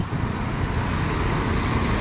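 Heavy traffic roars along a busy Indian roadside, a dense, continuous rumble of cars, trucks and buses passing nearby with no gaps and no speech.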